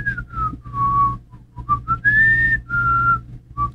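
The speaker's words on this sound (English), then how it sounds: "it's just me whistling" A person whistles a wavering melody in short, clear phrases with brief gaps, loud and close, with a low hum underneath, played back after a bass boost in DaVinci Resolve.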